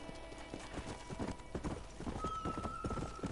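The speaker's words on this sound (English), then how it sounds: "he was just riding on his horse so fast past us" Hooves clip-clop fast and loud as a horse gallops past in Red Dead Redemption, with a steady driving rhythm and a brief whinny-like tone over game ambience.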